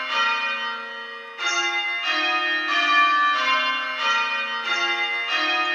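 A ring of church bells rings Stedman method with bells dodging, steady repeated overlapping strikes in a continuous, even rhythm.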